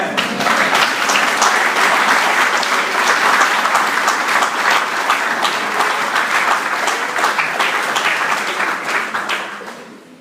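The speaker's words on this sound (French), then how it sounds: "Est-ce que vous pouvez applaudir le Seigneur?" A church congregation applauds together, loud, close and continuous, with individual claps audible in the dense crowd sound before it fades out at the end.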